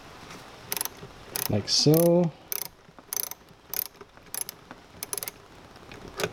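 A ratchet loosens the positive battery terminal nut on a Nissan GT-R, with several close, quick bursts of metallic clicking separated by pauses, and someone speaks briefly partway through.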